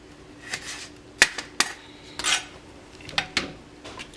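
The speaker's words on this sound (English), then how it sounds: "the knife just cuts right through" A chef knife slices through tomatoes for a salad, giving sharp, close, irregular taps and clicks of the blade against a cutting board, quiet between strokes.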